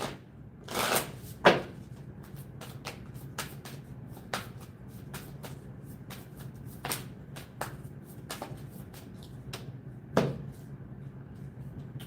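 Angel cards are shuffled by hand in a quiet room: soft, papery riffles and taps arrive in irregular bursts, each short and close, with a few louder flicks standing out.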